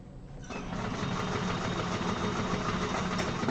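A sewing machine stitches a tacking seam on a Cassia satchel, running in a steady, continuous whir for several seconds after a brief quiet start, close and fairly loud with no talk.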